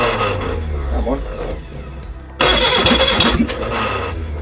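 A Reliant Regal Supervan engine cranks and catches on choke, the small motor sputtering unevenly before surging into a loud, rough running note that stays near and steady.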